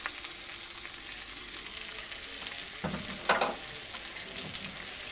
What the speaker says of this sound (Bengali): এখন এটাকে আমি কিছু সময় ভেজে নেব।